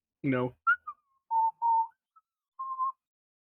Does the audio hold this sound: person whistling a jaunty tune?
yes